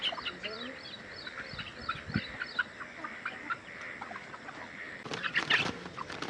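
Chickens and roosters in a village yard give a run of quick, repeated clucks at moderate distance, and a louder burst of squawking calls comes near the end.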